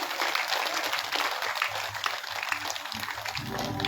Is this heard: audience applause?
yes